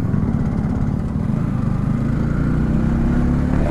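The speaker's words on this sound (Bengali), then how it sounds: "অনেকদিন পরে পদ্মা সেতুতে বাইক নিয়ে উঠলাম" Motorcycle engine running steadily up close as the bike rides onto the Padma Bridge on a winter morning, a continuous low drone with faint wind rush and no pauses.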